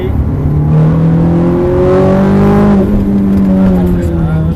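A Ferrari accelerates hard on a race track, engine pitch climbing steadily through the revs, loud and close from onboard, with a voice talking over it.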